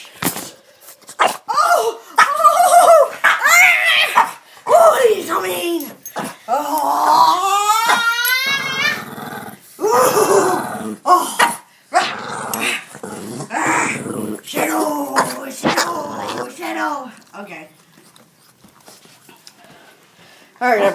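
A dog growling and barking in close, loud bursts, some whining and yelping mixed in, with people laughing and talking throughout.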